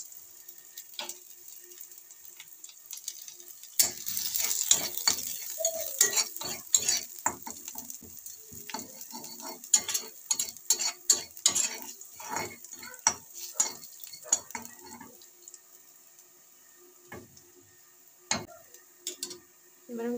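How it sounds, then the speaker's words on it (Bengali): Chopped garlic and dried chili fry in oil over a black cumin tempering, giving a soft steady sizzle with frequent scraping and clinking stirs of a spatula against the pan. "রসুনটা একটু ভাজা ভাজা হয়ে গেলে আমি পেঁয়াজ কুচিটা দেব।"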